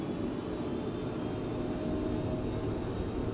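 Steady, loud roar of a Cessna Citation Mustang jet engine held at takeoff power in Microsoft Flight Simulator, a broad constant rumble with a faint high whine running on unchanged, no voices.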